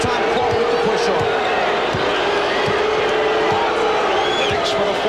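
A large arena crowd at a 1993 NBA playoff game between the Knicks and Bulls boos steadily in a dense, continuous roar, with basketball bounces thudding underneath and commentary voices over it.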